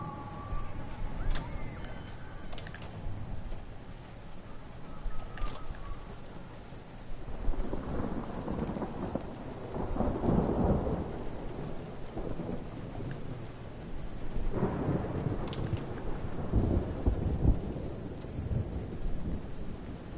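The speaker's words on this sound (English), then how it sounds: "It's raining and it's raining hard." Heavy rain and thunder in the game Everybody's Gone to the Rapture, a steady downpour hiss with deep rumbles of thunder swelling and fading several times, no talk over it.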